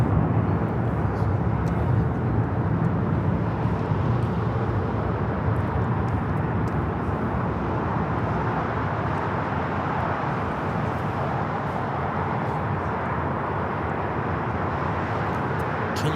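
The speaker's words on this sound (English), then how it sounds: "This is Alaska Airlines 1406 taking off to Manzanillo on the 737-800." Alaska Airlines Boeing 737-800 taking off from Los Angeles airport, a steady broad jet roar held loud and continuous throughout, with a faint voice in the background.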